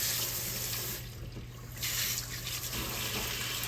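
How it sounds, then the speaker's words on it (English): A tap runs steadily while hands are washed at a kitchen sink, making a close, continuous rush of water that dips slightly partway through; no one speaks. "Let me wash my hands, y'all."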